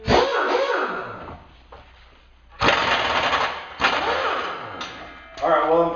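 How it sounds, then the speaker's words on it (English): An impact wrench works rusty bumper bolts on a Jeep in loud close rattling bursts, three or four runs separated by short quiet gaps, with a whining spin-down after some of them. "these bolts are really rusty, so we are definitely going to be needing the impact wrench this time"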